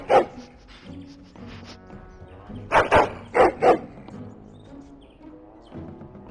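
Several loud, close dog barks in Dragon Age: Origins, a pair and then another pair in quick succession, heard over a low game soundscape.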